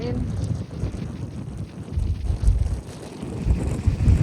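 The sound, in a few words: strong wind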